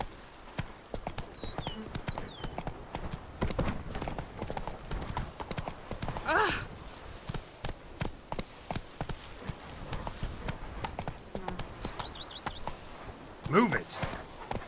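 Horse hooves pound in a fast, steady clip-clop rhythm throughout a Witcher 3 ride, with game music and voices layered over the galloping and occasional whinny-like tones.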